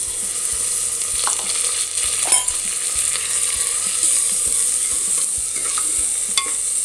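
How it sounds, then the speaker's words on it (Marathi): Rice roasting in a pan with cumin and onion, giving a steady crackling sizzle broken by repeated scraping stirs from a spoon, with no talk. "तर तांदूळ आपल्याला 3 ते 4 मिनटं यामध्ये चांगला भाजून घ्यायचा आहे।"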